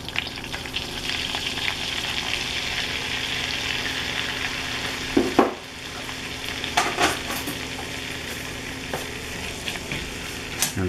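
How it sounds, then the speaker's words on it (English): Butter and flour sizzle steadily in a pan as the roux for sausage gravy cooks down, with close, continuous frying and a few louder stirring scrapes partway through. "basically all we're trying to do is cook down the butter, cook down the flour."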